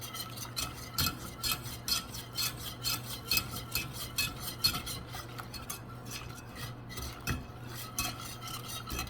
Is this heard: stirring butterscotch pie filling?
yes